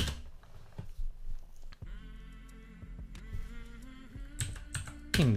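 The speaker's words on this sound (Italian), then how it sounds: "Digitiamo quindi invio." Computer keyboard keys tapped a few times during a networking exercise, one firm keystroke as enter is pressed, quiet and close over a faint steady electronic hum.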